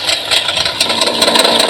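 A motorbike engine runs close by in a short burst, a rough mid-pitched idle with a rattling, uneven throb and no voices over it.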